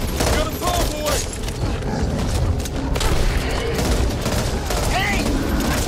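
Rapid gunfire from the co-op zombie shooter Back 4 Blood, bursts of shots crackling loudly and almost continuously, with voices talking over the shooting.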